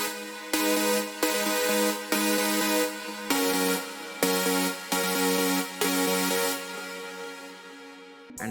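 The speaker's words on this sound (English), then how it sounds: "second is also the Savers chord but not so detuned" A less detuned supersaw synth chord for a big-room EDM climax, alone and loud, moving through a sequence of held chords roughly a second each before fading out near the end.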